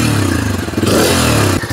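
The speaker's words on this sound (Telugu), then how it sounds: "ఇంజన్ ఆన్ చేసేసాను." A Bajaj Freedom 125 CNG motorcycle, a 125cc bike, running its engine up close, a loud steady idle with a rising rev in the middle before settling back.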